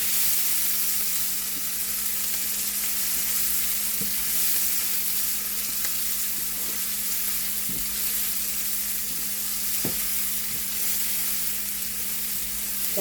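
Finely chopped half tomato frying in a pan with oil for an orange-peel curry, a steady close sizzle running throughout with occasional soft clicks and stirring taps.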